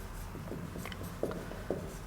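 Pen or chalk writing out a maths function diagram, with short scratchy strokes and a couple of sharper taps against a steady room hum, no talk.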